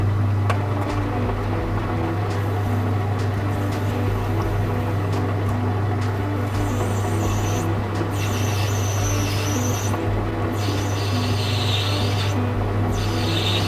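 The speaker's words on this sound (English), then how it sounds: "I do find cutting tapers on the lathe oddly satisfying" A metal lathe cuts a taper in solid brass with a steady low motor hum and a rasping, scraping cut that comes and goes as the tool works along the piece. No one talks.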